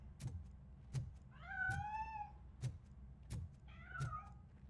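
Two drawn-out meows from a cat in the video game RoboCop: Rogue City sound among regular soft thumps, the mewing clear and tonal, fairly quiet and near.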